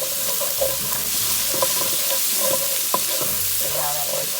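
Oil added to a hot pan after onion and celery, then stirred to loosen the browned bits stuck to the bottom: a continuous sizzle and frying hiss with repeated scraping and stirring strokes, close up and without talk.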